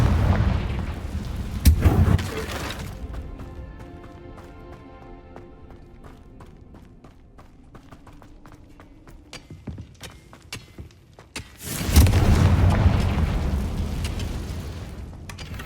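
Confringo fire-blast spell in Hogwarts Legacy: a loud burst of explosions, a quieter stretch of rattling, clattering impacts, then another heavy blast near the end, with no talk over it.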